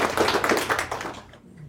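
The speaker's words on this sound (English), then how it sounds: "Go ahead, give us the perfunctory round of applause." A brief, sparse round of clapping from a small audience at a marketing company gathering, a few hands tapping unevenly for about a second before fading out.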